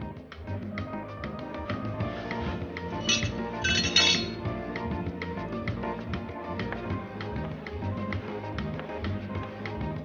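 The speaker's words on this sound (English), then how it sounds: "So now we're dicing." A knife dicing breadfruit on a cutting board, a steady run of quick, close taps and clicks with no talking.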